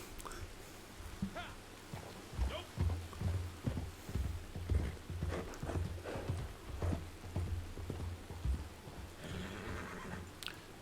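Horse hooves clip-clop at a steady pace in the game Red Dead 2, a regular rhythmic thudding through most of the stretch with faint voices now and then in the background.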